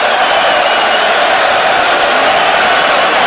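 A big football stadium crowd at the Iceland vs Wales match roars and cheers in a steady, loud wash of noise that holds without letup.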